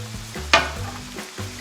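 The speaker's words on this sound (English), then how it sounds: "Stir that around." Stuffed bell pepper filling with tomato is stirred around a hot pan, giving a short scraping stir with a brief sharp scrape over a steady sizzle of frying.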